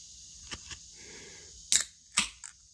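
A beer can of New England Brewing Co hazy IPA is cracked open with a firm, fairly quiet pop, followed by a short fizzy hiss and a second smaller click, in a quiet room.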